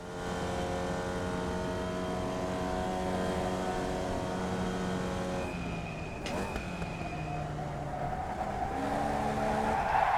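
A Vee race car at Summit Point takes the final corner onto the straight, its engine holding a loud, steady drone that rises in pitch as the car accelerates.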